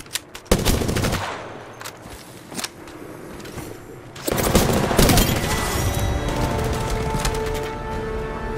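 Gunfire from the Apex Legends video game: loud rapid bursts and single shots, close and punchy, with a sustained stretch of automatic fire and booming impacts in the second half.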